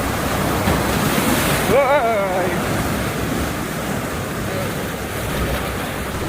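Rough sea waves crash and churn at Playa Montaña beach resort in Batangas in a loud, continuous roar, with gusts of wind buffeting the microphone. A person gives a brief startled exclamation partway through.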